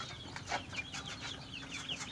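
Chickens clucking and calling in a coop, several birds overlapping with short repeated calls over a low background hum.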